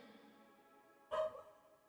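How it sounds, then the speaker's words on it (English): A dog barks once inside a house, a short sharp burst standing out over a steady low background hum, fairly close but not loud. "You guys might hear the dog."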